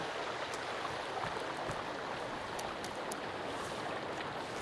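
A waterfall in the survival game Sons of the Forest gives a steady, dense rushing roar that stays even throughout, with faint clicks and ticks over the top.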